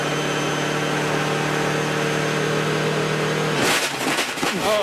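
A race car engine roars steadily at close range during the 2013 Sahlen's Six Hours of The Glen, then fails, breaking into a harsh, uneven rattling clatter near the end.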